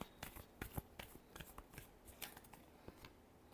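Tarot cards being shuffled by hand, a quick run of crisp papery riffles and soft slaps, close and fairly quiet, with uneven bursts throughout and no talking.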